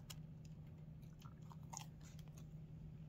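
Crispy maple sugar pull-apart pastry is bitten and chewed close to the mic, with several quiet, crisp crunches in quick succession against a low background hum.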